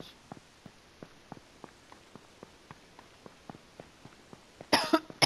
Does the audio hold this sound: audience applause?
no